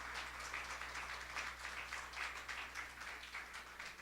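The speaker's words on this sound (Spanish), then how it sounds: "¿Se atreve a darle un aplauso al Rey de Gloria por todas estas cosas?" A church congregation at a Sunday school service applauds together in a soft, distant, steady wash of clapping that lasts a few seconds, with no voices over it.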